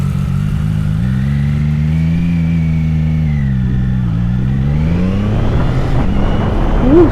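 A CFMoto 675NK motorcycle engine on the road, loud and close, its pitch rising and dipping through throttle changes and then climbing sharply in a final rev.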